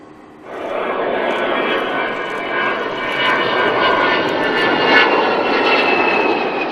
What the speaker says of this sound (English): This Vulcan bomber may be a relic, but its appearance and noise stops today's young and old in their tracks.